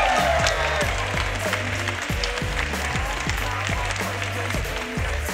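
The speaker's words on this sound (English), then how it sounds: "One more round of applause for your top eight, ladies and gentlemen" Crowd applause for the top eight players at a Guilty Gear Strive fighting-game tournament finals, a steady wash of clapping and cheering under a loud, pulsing bass beat from the venue sound system.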